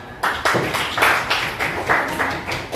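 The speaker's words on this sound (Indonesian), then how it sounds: "Oke, tepuk tangan." A classroom of students gives a short burst of hand claps in a rhythmic group pattern, about ten sharp beats spaced evenly over a few seconds, fairly close and with no talking on top.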